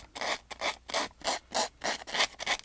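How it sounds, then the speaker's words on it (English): A cheap dollar store nail file rasps along the edge of a piece of chipboard, about nine close, even scraping strokes in a steady back-and-forth rhythm with no voices. "if you go around the edge with a nail file"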